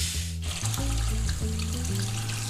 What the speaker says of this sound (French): Après, on égoutte le riz.